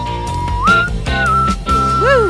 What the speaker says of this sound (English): Hit me with a whistle here.